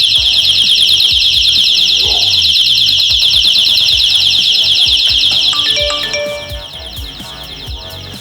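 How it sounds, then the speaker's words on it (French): An SFR Home security alarm goes off, a loud piercing rapid electronic warble with a rattling mechanical pulse beneath, sustained for about six seconds before dropping sharply in level and breaking up. "l'alarme au bout de 30 secondes"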